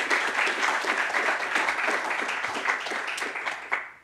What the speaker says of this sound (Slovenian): Lahko damo en aplavz za Barbaro.